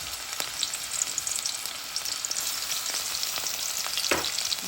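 Garlic frying in hot oil in a karai wok, a dense continuous sizzle and crackle heard up close, with a few faint scrapes and knocks of a spoon, no voices.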